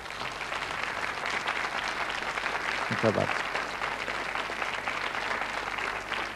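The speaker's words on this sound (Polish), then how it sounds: "Brawa dla pana Marka" A studio audience claps steadily throughout a 1997 Polish television programme, a dense, even wash of applause, with someone briefly saying a few words partway through.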